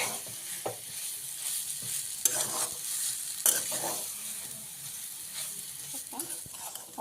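A spiced potato filling for katwada sautéed in a pan, with a continuous sizzle broken by repeated spatula scrapes and taps at an uneven pace, heard up close.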